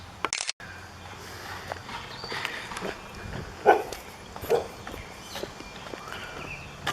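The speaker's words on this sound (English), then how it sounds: "It's a person's dog on their front porch." A dog on a front porch lets out a couple of short, fairly distant barks over outdoor ambience with faint footsteps.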